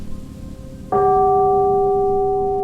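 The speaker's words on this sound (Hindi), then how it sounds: "तभी होटल के अंदर कहीं दूर से घंटी बजने की आवाज आई।" A single bell strikes after a moment of low background noise, its clear ringing tone sustaining and slowly decaying.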